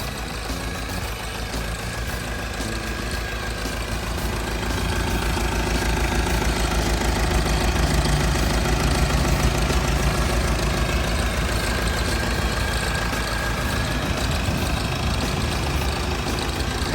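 The turbo diesel engine of a Komatsu WR11 loader idles steadily up close, a dense low rumble with a mechanical clatter that rises slightly in intensity partway through.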